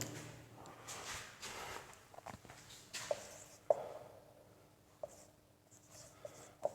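Chalk or marker scratches across a classroom board during a maths lesson in short, quiet strokes, with faint taps and pauses between them and no talking.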